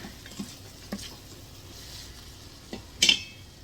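Rice and chicken sauteing in a cooker for Spanish rice: a low steady sizzle with a few scattered stirring scrapes and a sharper clatter near the end, no one talking.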